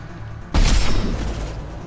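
A single loud grenade blast in Mass Effect 2, a sudden boom followed by a rumbling decay, heard close and without talk.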